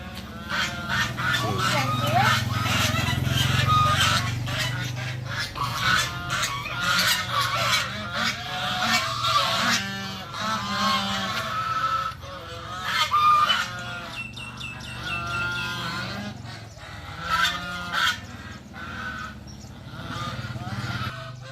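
Geese honk repeatedly and loudly throughout, a noisy overlapping chorus of several birds close by, with some low rumbling in the background.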